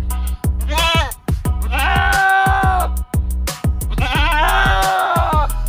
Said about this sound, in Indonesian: Wih, ternyata ini kambing.